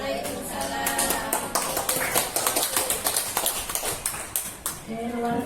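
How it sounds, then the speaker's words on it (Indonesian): Audience applause after a presentation, a burst of many hands clapping rhythmically at close-to-medium range, with a speaker's voice over it. "Tepuk tangan sekali lagi Bapak Ibu"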